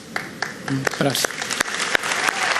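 Scattered claps ring out at a Nissan industrial launch event attended by Lula, sparse and uneven hand strikes with a voice speaking briefly among them.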